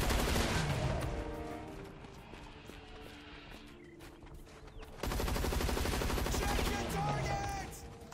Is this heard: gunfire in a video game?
yes